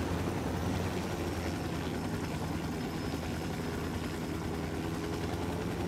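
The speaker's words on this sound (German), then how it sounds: "Ja, da ist auch ein ganz netter Helikopter." A helicopter idles in the Ghost Recon Wildlands video game, giving a steady low engine rumble and rotor drone at moderate volume that runs without a break throughout.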